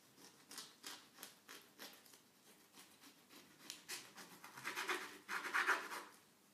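A knife cuts through a mango avocado sushi roll in a series of faint scraping and crunching strokes, the sawing growing rougher and louder toward the end, close by with no talk.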